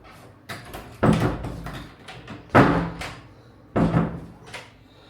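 Three firm thuds of a cheap hotel room door being shut land about a second and a half apart, each a sharp low knock with a short rattle, against quiet room tone.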